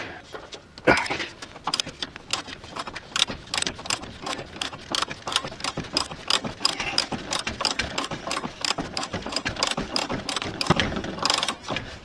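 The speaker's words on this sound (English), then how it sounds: "I'll try getting a wrench on that." A wrench ratchets on the power steering pump of a 1998 Chevrolet Silverado truck, a long run of quick, close metallic clicks in uneven bursts.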